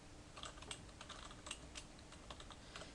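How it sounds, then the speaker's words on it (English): Quick bursts of keystrokes on a computer keyboard, soft and close, with irregular clicks tapping out a short message and no talking. "So I'm just typing something real quick here."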